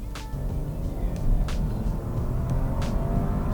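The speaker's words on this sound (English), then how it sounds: "this has burbles" A Rolls-Royce Ghost engine rumbles steadily and close, with a few crisp exhaust pops and burbles spaced out over the low drone.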